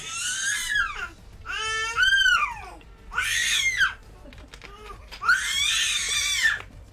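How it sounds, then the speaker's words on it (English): A baby screaming in four loud, drawn-out, piercing bursts with brief pauses between them, close and alone over faint background noise. "What are you screaming at? Why are you screaming?"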